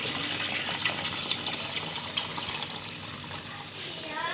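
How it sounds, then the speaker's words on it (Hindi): Water pours steadily into a cooking pot for beef pulao in a home kitchen, giving a continuous close gushing splash for several seconds. "तो अभी पानी डाल रहे हैं हम।"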